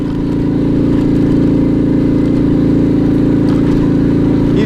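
Alfa moped engine droning loud and steady while riding slowly over a rough, bumpy forest road in the Russian wilderness, a close buzzing hum with occasional rattles from the uneven track.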